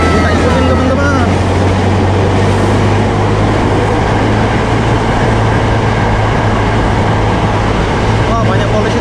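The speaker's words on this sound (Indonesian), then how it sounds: "dia keretanya." A KRL commuter train rumbles past a Jakarta level crossing, JPL 11A near Pademangan, with a loud, steady low roar and rattling wheels throughout, mixed with nearby traffic noise.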